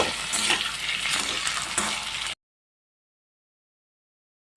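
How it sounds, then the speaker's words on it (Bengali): Cut potatoes sizzle in hot oil in a wok while being stirred, a loud, steady frying hiss with scraping for about two seconds before the sound cuts off to silence. "এবার নাড়াচাড়া করে একটু ভাজা ভাজা করে নেব"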